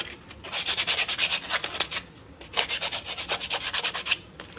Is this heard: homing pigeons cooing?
no